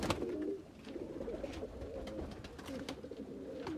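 Golden Kamagar pigeons coo in soft, low, repeated burbling calls, close by, with faint scratchy rustles and clicks in the background.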